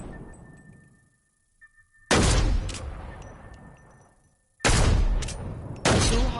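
Weapon fire in Fortnite, heard as dense loud bursts of rapid shots in three separate volleys with quieter gaps between them. There is no talking.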